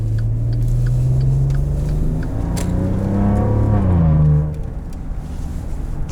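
A 2014 Maserati Ghibli with a twin-turbo V6, heard from inside the cabin while driving: the engine note climbs steadily under acceleration, then drops sharply at an upshift into a lower, quieter drone.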